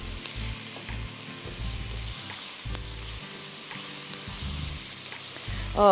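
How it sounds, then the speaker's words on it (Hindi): Onions sautéing in a pan with white pepper and spices give a continuous hissing sizzle, with faint low thumps and stirring underneath, close and unaccompanied by talk. "सौते करते रहिएगा सब चीज़ों को प्याज के साथ"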